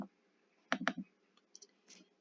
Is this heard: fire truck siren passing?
no